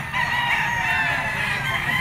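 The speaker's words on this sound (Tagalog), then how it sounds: "6 na manok yung dala ni Boss PJ mga tol" A rooster among chickens offered for sale crows loudly and close by, one drawn-out call filling the whole short moment.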